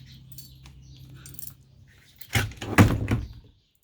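Door of a used Isuzu NPR130 six-wheel truck opened up close: after some quiet rustling comes a loud metallic clunk and rattle of the latch and panel, with a couple of sharp knocks fading out.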